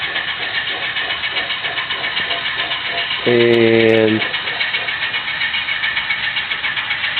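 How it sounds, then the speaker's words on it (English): Alco S2 diesel locomotive engines run steadily with a low, pulsing drone throughout, and a short buzzing horn-like tone rises over them about midway; a single brief word is spoken. "that's the sound of those diesels"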